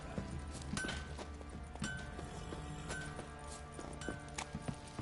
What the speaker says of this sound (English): Alright, come here, horsey.